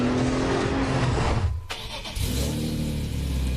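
A BMW E46 M3's S54 engine roars loudly through its exhaust, dipping briefly before surging back into a sustained rev with a deep, raspy tone.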